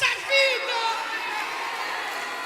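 A church congregation applauds and cheers together during a worship service, a dense, sustained wash of clapping and voices that swells early and then holds steady at a fairly loud level.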